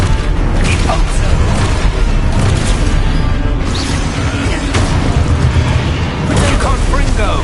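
In the video game Hogwarts Legacy, loud, booming Repulso spell blasts go off in a dense barrage, with thumps and bursts stacking up close and heavy against the rest of the combat noise.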